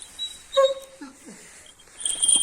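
A wolf gives a few brief, high-pitched whimpers and squeaks close by, with short pauses between them.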